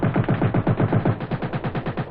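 Rapid, evenly spaced automatic fire from a 30 caliber machine gun combination on a light reconnaissance vehicle, a steady continuous burst of sharp reports that sounds slightly muffled and thin at the top end.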